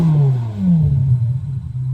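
A 2025 Chevrolet Corvette Z06 engine revs with a sharp, high-pitched wail, the tone sweeping down as the revs fall across a brief, close burst.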